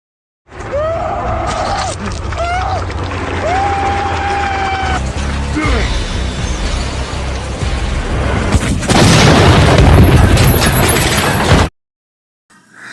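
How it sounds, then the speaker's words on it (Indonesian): Tense music and rising tones build before a loud cannon explosion booms and rumbles for a few seconds, then cuts abruptly to silence, at a racing track. "meriam yang meledak tepat di wajahnya"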